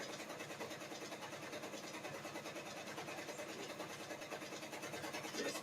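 An embroidery machine stitching puff embroidery, a steady fast mechanical whir with rapid rhythmic pulsing that runs unbroken and fairly close, with no talking over it.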